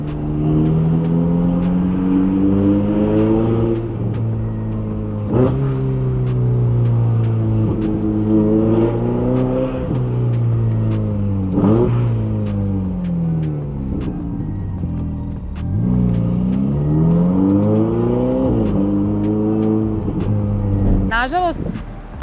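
A Stage 2 chipped Ferrari drives past at speed, its engine note rising and falling in repeated revving sweeps, loud and close, with a brief high tire squeal near the end.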